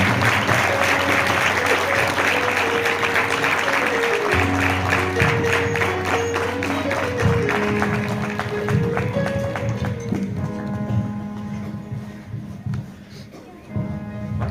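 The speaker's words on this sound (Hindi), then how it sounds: "तालियां स्वागत करना परमेश्वर का स्वागत" A church congregation applauds in welcome during a worship service, loud sustained clapping from many people that fills the room for over ten seconds, with a voice speaking over it and the clapping tapering slightly toward the end.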